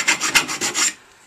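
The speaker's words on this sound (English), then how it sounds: "just filing around there." A file rasps metal around the joint of a race exhaust can, with several quick, harsh strokes over about a second before fading out. Close and loud, no talking.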